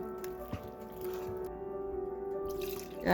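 Milk and water pour into a batter of dry ingredients as a steady liquid stream with small drips and a soft squish at the start, close and moderately loud, with no talking.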